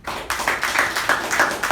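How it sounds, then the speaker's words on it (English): Audience at a Toastmasters meeting giving a round of applause, a short burst of many hands clapping close by, with no talk. "A big round of applause for the business session and Balaji."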